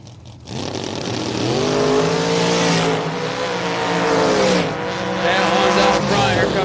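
At a drag strip, a dragster and a Corvette launch together with a loud, rising roar and tire squeal, then the engines climb through gears as they pull away, with a PA announcer faintly audible.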